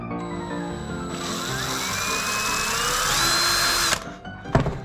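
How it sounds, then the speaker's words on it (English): A power drill whines steadily at high speed for about four seconds while enlarging a hole, its pitch rising slightly, then stops with a clunk and a short rattle. "I'm gonna have to drill my hole just a little bit bigger"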